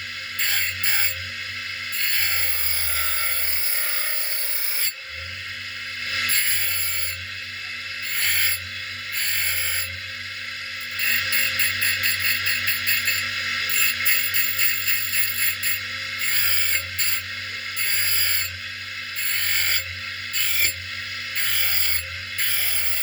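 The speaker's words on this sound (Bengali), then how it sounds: "অ্যাকচুয়ালি মেশিনে এভাবে ধরে ধরে কাটতে হয় প্রতিটা জোড়া প্রতিটা পার্ট এক একটা পার্ট এক একটা করে কাটতে হয়" A cutting machine carves designs into a conch-shell bangle (shakha), a loud continuous grinding whine that rises and dips as each part of the piece is held to the blade. No one speaks.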